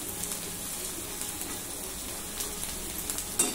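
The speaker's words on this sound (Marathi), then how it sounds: "इथे मी हळद टाकते, हळद छान परतून घेते मी।" Ground turmeric frying in hot oil just after a garlic tempering, giving a soft, continuous sizzle with a few faint crackles, close but fairly quiet.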